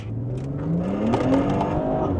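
A 2018 BMW 340i M Sport, rear-wheel drive and turbocharged, accelerates hard in Sport Plus mode, its engine note rising steadily in pitch as revs climb, loud and close from inside the car.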